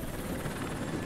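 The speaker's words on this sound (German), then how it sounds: "Scheiß Hubschrauber." A helicopter in the video game Rise of the Tomb Raider, a loud, dense rotor roar with steady chopping texture filling the whole second, close and continuous with no speech over it.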